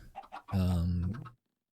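A chicken in Minecraft Stoneblock 2 gives a few short clucks and then one longer, drawn-out squawk. It is close and clear, then goes silent.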